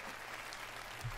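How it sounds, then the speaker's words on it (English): Applause from the audience at Bethesda's E3 2018 press event, a steady broadband wash of clapping that fills the whole short moment at moderate level. "round of applause, please, for Todd Howard."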